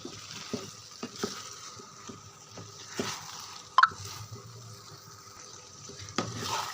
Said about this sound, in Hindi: मसाले में दाल हम अच्छे से मिक्स कर लेंगे ताकि दाल और मसाला यकजान हो जाए